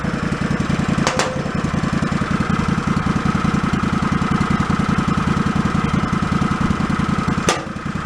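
Idling engine of a John Deere lawn tractor being repaired for flooding, a loud, close, steady rapid chugging that runs without a break, with a couple of brief sharp clicks on top.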